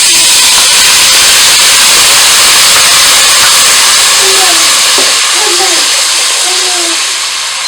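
Ginger garlic paste hits dark-browned onions in a hot pan for beef pulao, giving a loud, steady sizzling hiss that fills the clip and eases slightly toward the end, with faint voices underneath.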